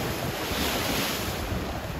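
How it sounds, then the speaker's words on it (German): Wind and sea waves at Es Trenc, a long natural sand beach on Mallorca, on a breezy autumn day: steady roaring surf with gusty wind rumbling against the microphone, continuous and close, with no voices. "Es ist windig, wie so oft im Herbst, so ganz ruhige See hat man selten."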